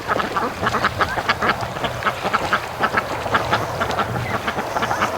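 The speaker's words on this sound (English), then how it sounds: "the ducks are coming straight out to the lake" Muscovy ducks heading out to a lake give a busy run of short, close quacks and calls, rapid and overlapping, over a steady outdoor rustle.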